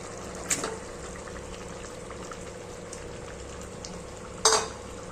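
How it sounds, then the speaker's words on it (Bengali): Paneer pieces drop into simmering Bengali matar paneer gravy, which bubbles steadily and softly. Two brief clatters stand out, one near the start and one near the end, with no voices. "এখন পনিরগুলো ঢেলে দেবো"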